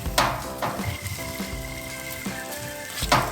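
Plov with onion frying in a kazan and being stirred, a steady sizzle broken by a few clanking scrapes of the utensil against the pot, close and moderately loud.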